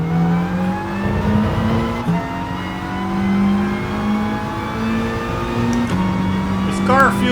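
A racing car's engine rises steadily in pitch through several gear shifts in Gran Turismo Sport, loud and continuous, with someone talking over it.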